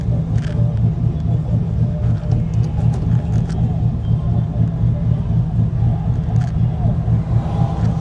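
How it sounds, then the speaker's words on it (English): Chevy Silverado pickup with a 6.0 V8 and cam, swapped to a five-speed, heard from inside the cab while driving: a steady low engine rumble and drone throughout, with no talk. "I wonder if you guys can hear the cam from the inside."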